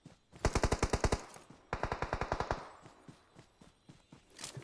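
Two loud bursts of rapid automatic gunfire from the PUBG Mobile battle game, each about a second of evenly spaced shots, separated by a short pause and followed by fainter scattered sounds.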